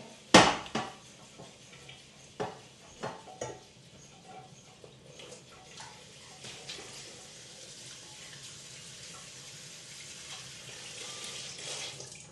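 Rice is rinsed under a running tap for garlic rice, opening with a few sharp knocks and clatters. A steady, fairly quiet wash of flowing water and swishing follows.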